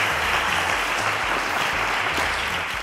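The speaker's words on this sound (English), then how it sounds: "A round of applause, ladies and gentlemen." A studio audience at a quiz show applauds a contestant with steady, dense clapping that stays loud and even throughout, with no voices over it.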